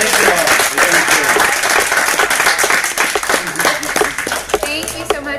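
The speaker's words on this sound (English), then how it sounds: "Give yourselves a round of applause." Sustained applause from a convention crowd at an anime fan panel, a dense, loud wash of many hands clapping close by with scattered cheers, tapering slightly toward the end.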